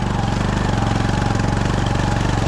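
A Honda Fourtrax 6x6 ATV engine runs close and loud at light throttle while churning through mud, a steady, rapidly pulsing low putter with no pauses.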